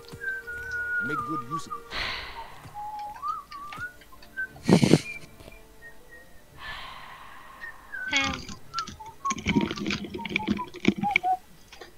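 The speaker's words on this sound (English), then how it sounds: "We heard all that whistling the entire fucking time." A person whistles a wandering tune over a gaming voice chat, the melody drifting on and off across the stretch, mixed with keyboard clatter and bursts of talk from several people.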